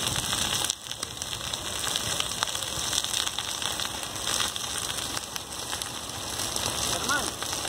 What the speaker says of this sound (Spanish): ahí se está quemando el resto